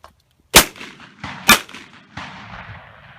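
A double-barrel shotgun fires two close, booming shots about a second apart, each with a sharp crack and a rolling echo, followed by a fainter third report fading out.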